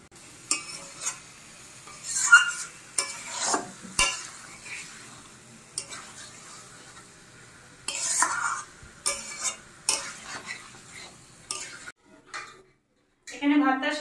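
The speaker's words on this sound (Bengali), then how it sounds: "এখানে মশলাগুলো কষিয়ে নিয়ে মাংসটা দিয়ে দিয়েছি, এবার মাংসটা কষানো চলছে" Meat sautéing with spices in a pot for biryani, with intermittent scraping stirs and soft sizzling bursts at close range, broken by short pauses and a brief louder clatter near the end.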